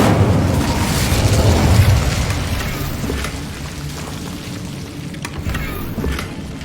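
Incendio fire spell blast in the video game Hogwarts Legacy, a loud booming burst at the start that rumbles and slowly decays into a lingering crackling wash.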